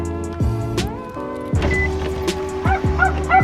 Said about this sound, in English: you can hear Mason separation anxiety starting to turn on